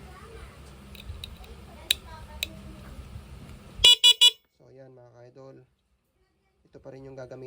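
A motorcycle horn tested after wiring gives three short, loud blasts in quick succession, followed by quieter talk. Faint handling and workshop noise come first.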